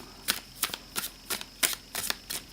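A Starlight Dragon tarot deck with matte gold edges is riffled and shuffled in a quick series of about eight crisp, close bursts, with no talking.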